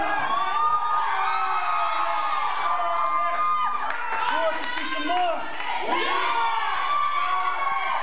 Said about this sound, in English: Karnage asks who wants to see more, and the fans cheer for it.